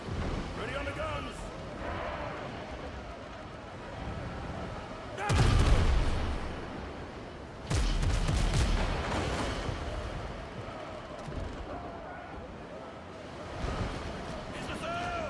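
A ship's guns fire at sea, two heavy, booming blasts a couple of seconds apart that roll out and decay, with people talking before and around them.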